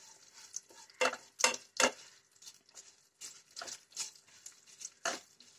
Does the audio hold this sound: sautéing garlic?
yes